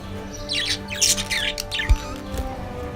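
Pet budgerigars, green, sky-blue and yellow, chirp and tweet around a clay-pot nest in quick, bright, overlapping bursts, close by and fairly loud.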